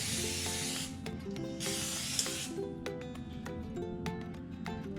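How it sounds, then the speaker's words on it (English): Cooking spray hissed onto a waffle maker, a steady close hiss in two long bursts with faint clicks and light kitchen clatter underneath. "Make sure you spray your waffle maker so that way your waffles don't stick."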